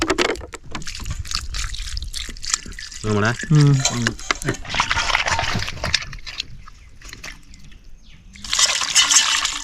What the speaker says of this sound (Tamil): அதில் தண்ணியை ஊற்றுங்க.